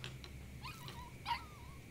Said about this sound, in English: What's a dog barking at?